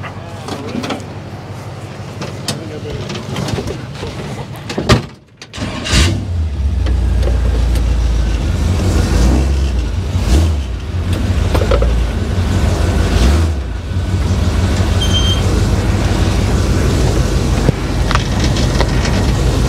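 A 1957 Chevy convertible drives with a loud, steady low engine rumble. A brief dropout comes before the engine note returns and holds, with faint voices underneath.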